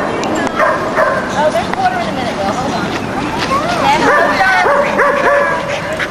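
Dogs yip, whimper and bark in a large fenced-in dog park, a busy mix of excited calls under babble from owners and someone talking nearby.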